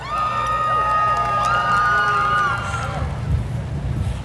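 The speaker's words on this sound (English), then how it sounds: "Big round of applause." A conference crowd at a community college event cheers loudly with whoops and tonal shouts for a speaker being welcomed, the roar fading after about three seconds into murmuring.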